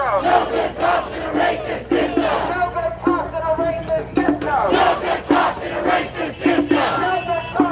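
A protest crowd in the Fairfax District of Los Angeles chants and shouts in loud, rhythmic bursts close by as it moves through a street intersection.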